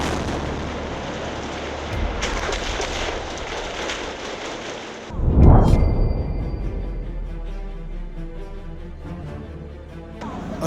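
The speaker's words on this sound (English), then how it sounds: "Sounds of automatic gunfire, grenade explosions." Street violence in Beirut during a protest, with a sustained crackling rush of noise and a single loud blast midway that rings off afterward, consistent with automatic gunfire and a grenade explosion.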